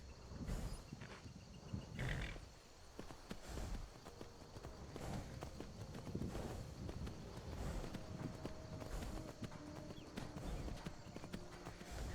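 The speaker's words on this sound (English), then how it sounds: "Maybe I can ride my horse to Iverstead." A horse ridden in Skyrim VR, with repeated clip-clop hooves on the ground at a walking-to-trotting pace, moderately close, with occasional snorts and faint ambient sounds.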